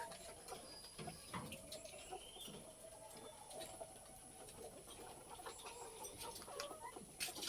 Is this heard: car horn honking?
no